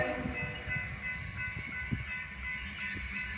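A train rolls through Garretson, South Dakota, a faint low rumble with soft clanks and wheel knocks scattered across the passage, heard from some distance with no voices.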